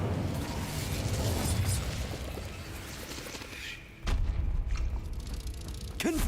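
Incendio fire spell cast in the Hogwarts Legacy video game: a loud, rushing fiery blast that fades, then a sudden booming burst followed by sustained roaring flames.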